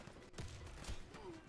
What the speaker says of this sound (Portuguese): Eita, quem tá dando tiro aí?